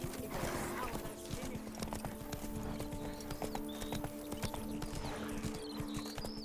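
Horse Roach's hooves clip-clop steadily in The Witcher 3 as the horse moves at a walk, with a brief whinny, game music and ambient sounds underneath, and a voice speaking over the top.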